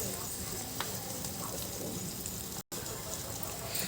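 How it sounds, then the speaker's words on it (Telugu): A chili and salt mixture fries in a pan, giving a steady, continuous sizzle with faint stirring, close and fairly loud with no break in the sound. "ఇప్పుడు సిమ్లో పెట్టుకుని వేయించుకోవాలి"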